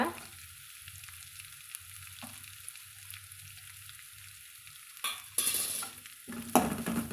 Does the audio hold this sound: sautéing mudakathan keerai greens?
yes